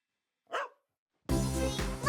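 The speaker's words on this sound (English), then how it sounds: "We're looking after Grandma's dog." A single short bark from Mossy, Grandma's pet dog, rings out alone after a moment of silence, followed by a sudden burst of loud, steady music.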